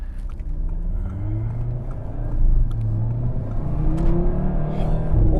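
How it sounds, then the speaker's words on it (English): 2018 Audi TT RS five-cylinder pulling hard at three-quarter throttle, a loud rising growl climbing through the gears, heard from inside the car. "that was like 3/4 throttle."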